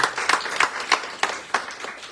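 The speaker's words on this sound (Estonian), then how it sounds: "suur aitäh, teeme aplausi." Audience applause at an album launch, heard as a close, steady wash of many hands clapping with regular rhythmic peaks, alone and without talk.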